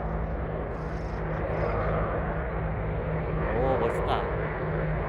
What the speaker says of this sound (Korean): 이거 헬리콥터가 지나가.